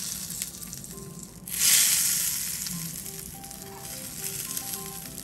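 A hot tempering of mustard seeds, asafoetida, curry leaves and red chilli in oil is poured over chutney, bursting into a sharp, close sizzle that slowly fades into a softer crackle.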